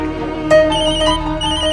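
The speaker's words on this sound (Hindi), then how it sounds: "लो कबीर का ही फोन है।" A phone rings in a room with a bright repeating electronic ringtone, loud and close, playing alone with no talk over it.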